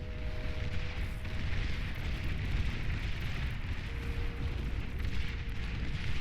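Explosions in the real-time strategy game Beyond All Reason make a dense, continuous rumble of booms and blasts that overlap without a break, loud throughout, during a 1v1 bot battle.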